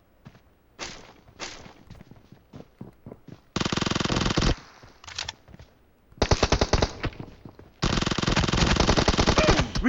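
Video game gunfire in a competitive scrim, scattered single shots followed by several loud sustained bursts of rapid automatic fire, close and dominant, with no talk.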